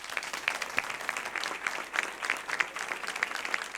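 An audience applauds a newly announced mayoral candidate at an indoor event, a dense patter of many hands clapping steadily and close, with no one talking over it.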